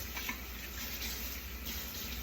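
Tap water runs steadily at a kitchen sink as a steel spatula is rinsed, a soft, even splashing rush heard close up with no voices.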